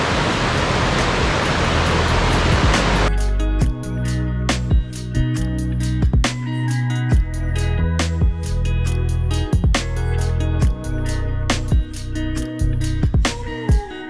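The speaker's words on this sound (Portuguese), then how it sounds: "A gente pegou um lugarzinho aqui do lado da cachoeira, meio exposto." Waterfall on the Praia do Bonete trail in Ilhabela, a broad steady rushing roar for about three seconds, then partly masked by close clicks, knocks and handling noises.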